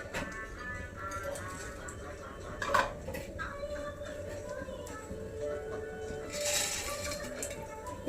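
Seeds being roasted in ghee in a pan, heard as metal spoon scraping and clinking against the pan over a soft continuous background, with a brief louder clatter.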